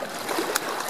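A child kicking and splashing while swimming at a lake beach: a brief wash of moving water with one quick splash, close and fairly loud.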